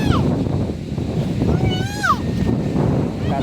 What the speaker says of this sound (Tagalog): Malakas ang hangin dito.